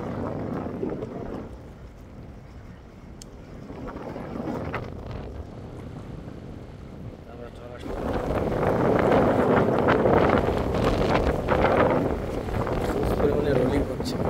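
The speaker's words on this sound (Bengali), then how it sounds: "বাট হচ্ছে মোটামুটি ভালোই তুফান।" Strong stormy wind batters a small river trawler, roaring and buffeting the microphone and growing louder halfway through, with voices partly heard beneath it.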